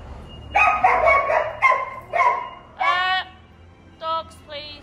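Dogs on a cold farm bark in a quick burst of several loud, close barks, then a few shorter yips follow after brief pauses.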